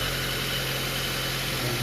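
A car engine idles steadily, a close, even low hum with a constant vibration and no variation in pitch.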